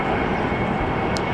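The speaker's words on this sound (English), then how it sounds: "One coming in for landing." Airplane approaching to land at LAX, a steady, loud broadband engine roar that holds constant throughout, close overhead with no voices.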